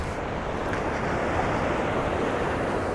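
Sea waves breaking over the reef at Watchet harbour, a steady loud wash of surf with wind buffeting the microphone throughout, no voices.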